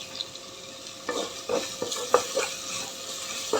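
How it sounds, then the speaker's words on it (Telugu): Curry leaves dropped into a cauliflower gravy in a hot pan bring a brief sizzle and crackle, with a few stirring scrapes and light clinks repeating over steady frying. "ఇప్పుడు కొంచెం కరివేపాకు యాడ్ చేస్తాను ఇందులోకి"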